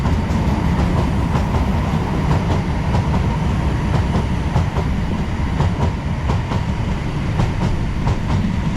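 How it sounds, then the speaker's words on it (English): A Freightliner Class 66 freight locomotive, number 66548, rolls through a station with a loud, steady rumble and a rhythmic clickety-clack of wagon wheels over rail joints, close by and filling the whole stretch. "we do have a freight coming through just as we arrived"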